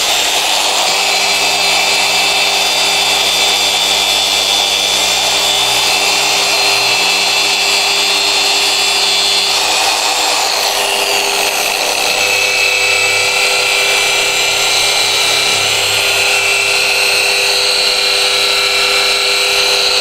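A power tool grinds off a weld and polishes a stainless steel tube to a mirror finish, a steady high-pitched whine running continuously and loud, with a slight change in pitch about halfway through.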